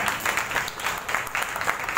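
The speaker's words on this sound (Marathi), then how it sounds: "बोलण्यातून ज्यांनी प्राजक्ताचे सडे पाडले अशा प्राजक्ता जोशी आज या ठिकाणी आपल्याला टाळ्या काढायला." Audience applause at the Tejasvi Sanmaan award ceremony, a steady wash of many hands clapping that swells and eases in waves, filling the room throughout.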